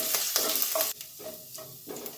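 Chopped ginger sizzles in hot oil with mustard seeds in a pan while cooking beetroot upma, with steady frying hiss and scraping spoon-stirring strokes up close.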